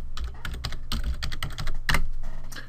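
A password is typed on a computer keyboard, with rapid, close clicks in quick bursts and a slightly heavier keystroke near the end.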